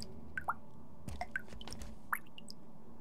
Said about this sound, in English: that's the audio cue for bottom left, just some dripping water SFX